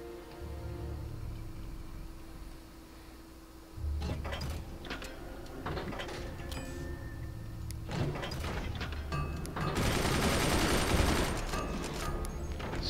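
Repeated heavy booming cannon blasts and sharp impacts from the game Forts, irregular bursts over a constant mechanical drone, building to a loud noisy rush near the end.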